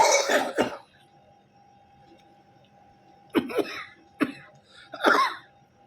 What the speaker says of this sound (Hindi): मुझे लगता है मुझे आज खांसी भी आ रही है